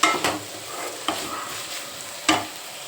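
Ivy gourd sautéing in a pan sizzles steadily, broken by three or four sharp clanks of a spoon stirring against the metal.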